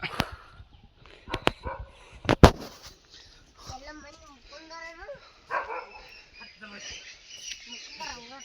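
A dog barks a few times nearby, sharp and intermittent, while people talk close by.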